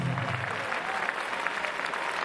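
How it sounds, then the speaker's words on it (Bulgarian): Steady applause from a crowd at a K1 and Muay Thai fight event in Varna, dense clapping filling the whole stretch at moderate volume. "Моля за вашите аплодисменти за Кирил Иванов!"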